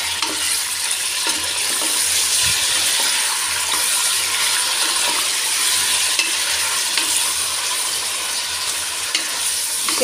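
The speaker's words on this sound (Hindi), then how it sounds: "अब मैं इसे गोश्त डाल के फिर ज़रा भूनूंगी।" Mutton frying in hot oil with bay leaf and whole spices, a loud, dense, continuous sizzle with scraping stirs of a spoon in the pan, no voices.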